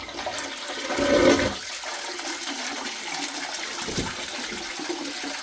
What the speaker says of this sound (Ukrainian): І відповідно тепер нажимаємо, нажимаємо речак зливу.